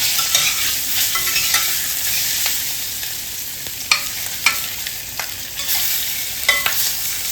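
Potato pieces fry in a pan of hot oil, a continuous sizzle broken by sharp scraping clicks of a spatula stirring them at irregular moments, close and with no talk.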